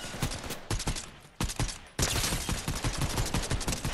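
Rapid bursts of gunfire in a Fortnite battle royale squad match crackle loudly and close, firing in quick repeated volleys with brief gaps between them.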